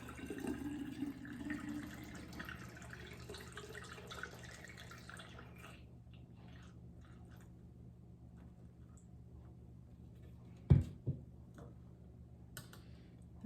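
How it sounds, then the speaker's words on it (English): Green juice pours steadily into a jug for several seconds with a gurgling liquid rush, then falls quiet before a single sharp clunk and a few faint taps. "There's a little bit of bubbles that I'm gonna let settle. That's why I don't pour it too fast."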